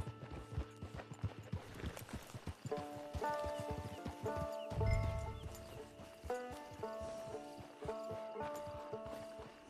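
Horse hooves clip-clop in a steady walking rhythm in the Red Dead Redemption 2 Online video game, close and clear over a layer of sustained musical tones.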